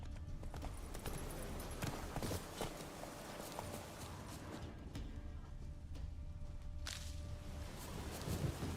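Roach the horse trotting in The Witcher 3, hooves clip-clopping in a steady, even rhythm throughout under continuous game ambience and faint tones.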